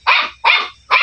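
A puppy barks three times at a steady pace, loud and close, each bark sharp with a short trailing tail and no talk over it.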